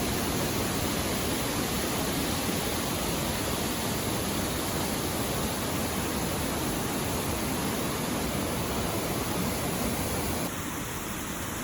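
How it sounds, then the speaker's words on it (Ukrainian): The Probiy waterfall on the Prut river in winter roars in a thick, unbroken rush of falling water, loud and constant, with no voices. "І ось він, водоспад прибій, який утворився на річці пруд у всій своїй красі, у зимовій красі."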